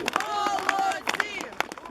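An audience at a public rally in Kamianets claps and cheers, with scattered hand claps under a mix of loud shouting voices and crowd noise throughout.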